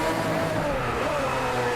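A Lamborghini engine in the racing game Driveclub drones at steady revs, loud and close, with a continuous rough roar and no pauses.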